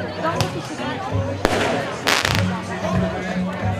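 Fireworks open the third Blue Night beach festival in Kalamata, with sharp crackling bursts and a loud cluster of bangs over constant crowd noise and a talking voice.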